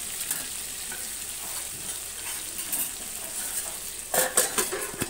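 Drumstick, potato and eggplant pieces being sautéed in a pan, giving a constant frying sizzle with scraping stirs and a few louder metallic clinks of a utensil toward the end, no voices.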